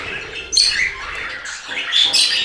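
A canary chirps and tweets in quick, high bright bursts, close by, with short pauses between phrases.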